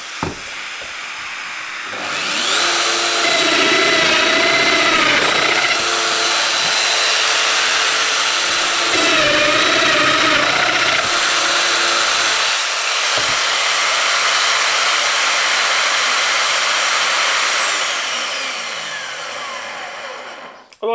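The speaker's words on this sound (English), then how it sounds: "2 cuts. 2 mortises using just a basic vac." A Festool Domino joiner cutting two mortises in wood while a basic shop vacuum extracts dust, a loud steady vacuum whine throughout, with two brief dips in motor pitch marking the plunge cuts, then the vacuum winding down.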